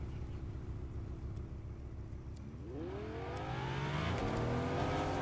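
A damaged car's engine drives in the Fortnite video game, idling as a low rumble before revving upward in a rising, pitch-sweeping whine that stays loud and close to the end.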